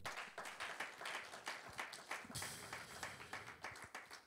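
A church congregation applauding, a steady patter of many hands clapping at moderate distance, fairly faint, with a little speech mixed in.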